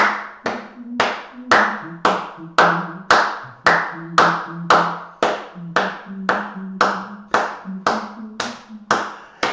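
Steady hand claps keep a regular beat, about two per second, while a group sings the nursery rhyme "The Grand Old Duke of York" faintly underneath.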